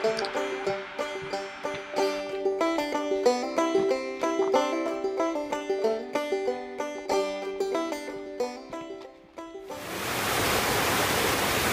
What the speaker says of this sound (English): It is a cascading waterfall. It probably goes for a good couple hundred feet.